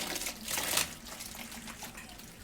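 Tap water runs and splashes over wilted salted cabbage for kimchi in a bowl during a quick rinse, a steady close wash that swells briefly and then settles into a softer trickle.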